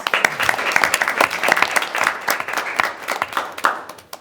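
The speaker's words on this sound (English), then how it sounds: "can I give them a round of applause?" A room full of people applauds, dense clapping rising and then thinning out over a few seconds.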